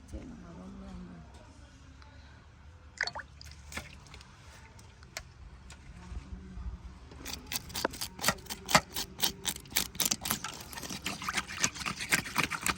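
Fish is scraped clean in water, a run of quick rasping scrapes and splashy strokes that grow denser and louder in the second half, with people talking throughout.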